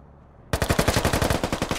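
Automatic gunfire in the Arma military game during a SquadOps operation, a sudden close burst of rapid, evenly spaced shots that keeps firing after a quiet start.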